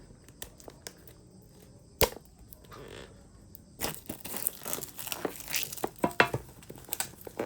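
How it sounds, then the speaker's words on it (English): Plastic wrap being crinkled and torn off a Nexal NXLWT1 smartwatch package, a quiet start with a sharp snap, then a close, busy stretch of crackling and rustling. "Okay, so let's remove the plastic here"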